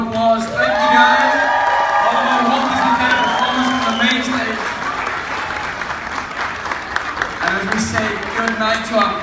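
Audience applause and cheering for princess characters and performers at a farewell show, a steady loud wash of clapping with scattered whoops, while an amplified voice talks over it throughout.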